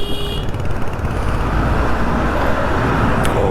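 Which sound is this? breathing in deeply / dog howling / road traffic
road traffic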